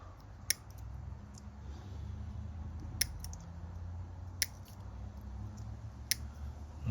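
Sharp, isolated snips of cutters separating plastic parts from a Tamiya 1/48 F-14A model kit sprue, four crisp clicks spaced a second or more apart over a low steady room hum, no talking.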